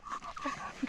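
Dog letting out a few soft, high whimpers with light panting breaths, faint and close, lasting under a second outdoors.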